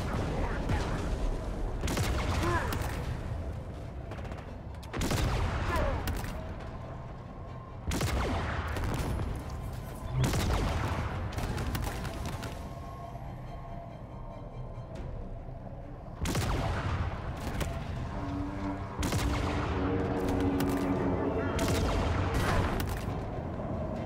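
Gunfire in the first-person shooter Halo Infinite, with repeated loud bursts of weapon fire and booming impacts in bunches across the span, and mechanical clatter running underneath.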